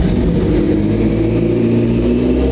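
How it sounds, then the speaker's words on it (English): A car engine runs on its first start after the seat brackets were fitted, a loud, steady, close rumble with a slight revving edge and no talk over it. "First start in the car."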